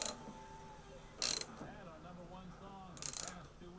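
A wrench clicks in two short, sharp bursts while snugging a spark plug down on a V-twin 950 engine, with someone talking steadily underneath.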